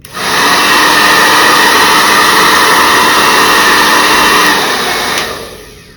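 A professional salon hair dryer with an AC motor blows steadily and loudly at close range, a continuous broadband whoosh that holds for about five seconds before winding down at the end.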